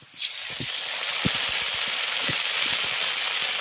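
Ginger, garlic and dried chili paste hits hot oil with fried onions, bursting into a loud, steady sizzle with a sharp initial hiss and faint spoon scrapes underneath.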